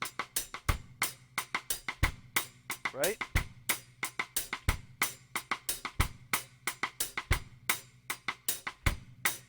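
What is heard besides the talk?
reggae drum pattern with hi-hat, kick and side stick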